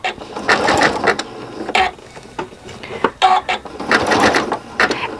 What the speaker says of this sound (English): I'm stitching the rows of cording together now